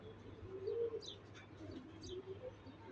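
Pigeons coo with soft, low, rolling calls, and a few higher chirps come in over a quiet background. The birds sound close but faint.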